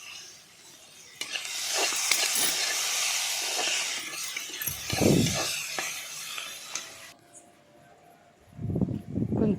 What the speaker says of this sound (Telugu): కట్ చేసిన టమాటాలు వేసాము.